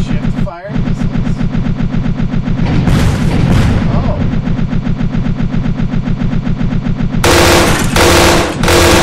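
Rapid missile fire from a vehicle in Happy Wheels, a loud continuous mechanical volley with booming bursts layered on top, close and dense throughout.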